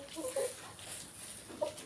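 A few soft, brief clucks come from a backyard hen feeding on vegetables among turkeys, faint and close-by with quiet pauses between them.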